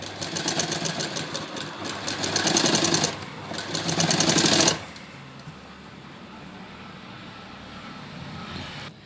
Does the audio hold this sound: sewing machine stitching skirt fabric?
yes